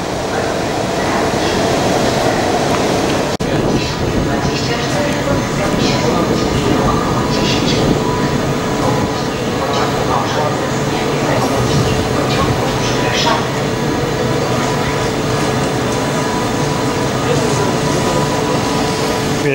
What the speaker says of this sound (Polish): Pociąg do Frankfurtu.